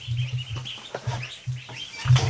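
Young ducklings chirping indoors near a kiddie pool, a run of short bright peeps and tweets over a low steady hum, fairly close and moderately loud.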